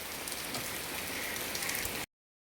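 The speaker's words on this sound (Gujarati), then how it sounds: "વરસાદ આવે છે બહુ બરાબર" Steady rain pours down near Kutiyana, a dense, even hiss of drops pattering on surfaces close by, continuing unbroken for about two seconds before cutting off abruptly.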